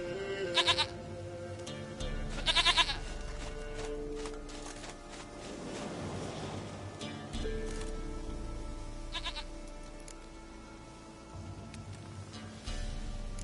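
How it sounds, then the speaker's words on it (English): A goat bleats in the video game Witcher 3, giving a few separate wavering calls spread across the scene, fairly close and clear over low game ambience and a light rain-like background. "Goat of mine, dearest,"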